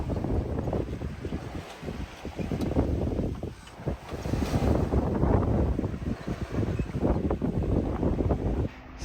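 Wind gusting over a small sailboat at sea, a loud continuous low rumble and buffeting against the microphone with rising and falling surges.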